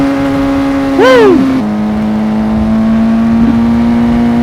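Motorcycle popping a wheelie: one sharp rev swells and falls away, then the engine settles into a steady, loud drone, close by.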